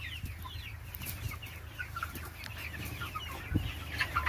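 Village free-range chickens cluck softly and irregularly at close range, with scattered short calls over a low farmyard rumble.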